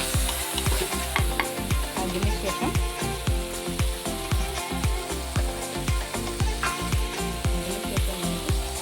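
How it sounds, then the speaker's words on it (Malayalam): Green chili, ginger, mango and shallots fry and sizzle in a pan for a Kerala-style fish curry, with repeated rhythmic stirring scrapes over a constant sizzle, close and fairly loud. "നന്നായിട്ടൊന്ന് മിക്സ് ചെയ്ത് ഒന്ന് ചെറുതായിട്ട് വാടുന്നത് വരെ ഒന്ന് ഇളക്കി കൊടുക്കുന്നുണ്ട്"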